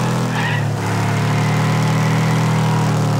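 A tractor buggy's engine idles in the racing game Wreckfest, a loud, steady, low mechanical drone that holds unbroken for a few seconds with no speech.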